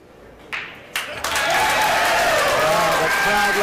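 Applause rises from a crowd at a pool 10-ball world championship match, a few early claps swelling into loud, sustained clapping with a voice talking over it.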